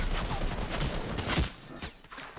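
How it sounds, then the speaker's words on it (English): Revolver gunfire in a Fortnite solo ranked match, a few sharp shots amid loud, busy game sounds, fading to quieter ambience after the first half. "it seems this guy's using a revolver, a very good gun."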